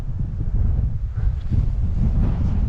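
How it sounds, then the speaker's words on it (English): Strong wind buffeting the microphone in a continuous low rumble near woodland while bikepacking downhill, gusting slightly but never letting up. "It's been a very windy start to the day."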